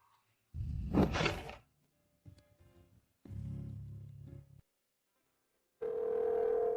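A telephone call to a number that is switched off, with broken bursts of rustling noise before a steady electronic phone tone sounds clearly near the end, and no speech.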